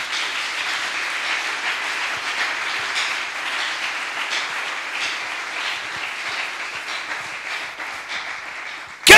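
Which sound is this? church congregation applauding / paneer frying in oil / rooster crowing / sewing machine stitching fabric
church congregation applauding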